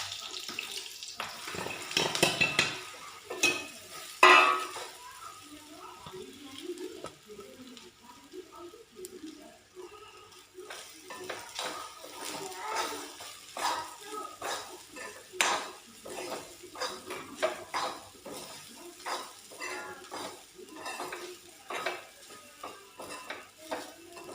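Sabudana mixed with peanuts, salt and sugar gets scraped and stirred into a metal pan, producing irregular clinks and scrapes of a utensil against the pan along with light wet handling noises.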